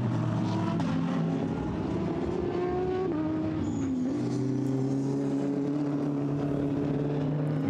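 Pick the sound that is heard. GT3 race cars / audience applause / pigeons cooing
GT3 race cars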